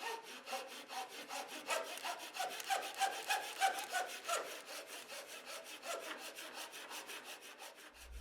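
Handsaw cutting through small wooden pieces meant for earrings, a steady rapid back-and-forth rasp of closely spaced strokes continuing throughout, close and fairly quiet with no talking.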